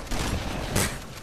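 A shotgun fires in Halo 3, a short burst of loud, close blasts with one sharp crack standing out, no talking over it.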